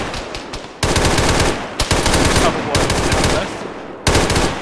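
Rapid automatic gunfire from the military shooter game Arma 3: loud, close bursts of shots broken by short pauses, with one final burst near the end.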